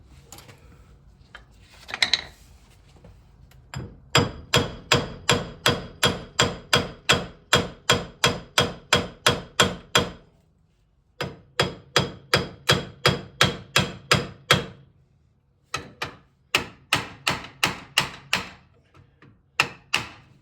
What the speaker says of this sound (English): Not a lead hammer, ball peen hammer.